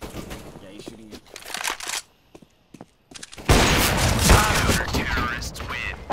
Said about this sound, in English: Yeah, he's shooting you.